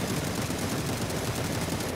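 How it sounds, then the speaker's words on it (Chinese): Gunfire from a vehicle in a PUBG-style battle royale esports match, a dense, continuous crackle of rapid shots that runs steadily throughout, fairly loud with no talk over it. "这里车上开枪"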